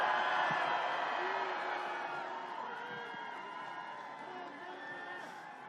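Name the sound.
crowd cheering at a political rally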